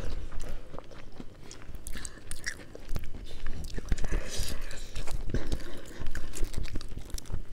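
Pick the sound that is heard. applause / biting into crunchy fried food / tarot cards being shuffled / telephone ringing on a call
biting into crunchy fried food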